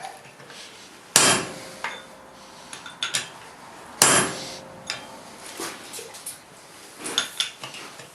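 Hammer blows on hot steel over an anvil while forging bolt jaw tongs: two sharp ringing strikes followed by a scatter of lighter taps and clinks, close and loud with nobody speaking.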